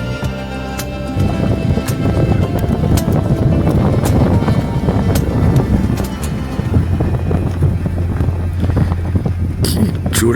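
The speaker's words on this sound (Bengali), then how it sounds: "জোরে হাওয়া বইছে দেখুন" Strong wind blows through a mountain valley in Spiti near a hilltop temple, a loud, rough, continuous roar buffeting the microphone, with occasional sharp gusts and thumps.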